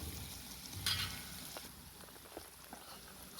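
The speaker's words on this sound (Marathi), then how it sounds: "आता हे छान आपण आहे ना कांदा हा शिजवून घेऊया." Onion fries in a pan for an onion-garlic masala, a faint, soft sizzle with a few light stirring taps and scrapes, close but quiet.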